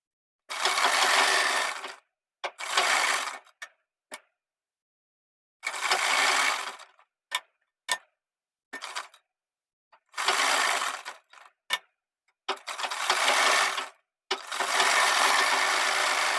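A sewing machine stitches the margin of a small boy's kurta in loud, close bursts of whirring, several long runs of a second or two broken by short taps and pauses, with no talk.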